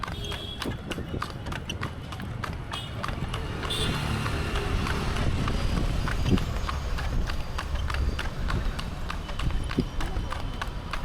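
Horse hooves clip-clop steadily as a horse pulls a cart in Palani, with a regular rhythm of hoof strikes under outdoor road noise and voices talking.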